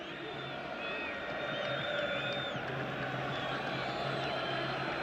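A football stadium crowd at an Algeria versus Nigeria World Cup 2018 qualifier keeps up a steady distant roar with whistles and horns, under a commentator's voice.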